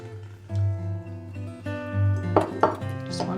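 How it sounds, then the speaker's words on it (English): An egg is cracked into a small dish while making cheesecake, heard as a couple of quick, sharp taps and a crack over a steady, low mechanical hum in the kitchen. "So just crack that into one of your little dishes"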